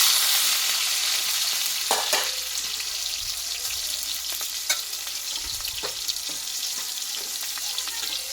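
Chopped large tomatoes drop into hot oil tempered with panch phoron and cardamom, setting off a steady loud sizzle with clattering stirs and a few sharp spatters, no voices.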